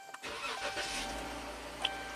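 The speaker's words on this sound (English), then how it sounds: "Fires right up." A Dodge Durango engine cranks and fires right up after the key is cycled and the fuel pump primes, settling into a steady, close mid-pitched idle with no talk over it.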